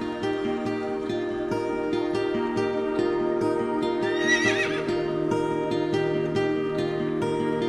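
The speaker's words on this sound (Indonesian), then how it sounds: "Jadi ini saya mau lihat kuda yang ada di Sajen" A horse at the Sajjan Heritage animal grounds gives a loud, close, wavering whinny partway through, set against a steady humming background with faint clip-clop-like knocks.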